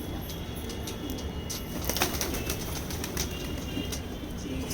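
Pigeons kept by a fancier coo softly and flap their wings nearby, with bursts of wingbeats and low calls over a steady outdoor background.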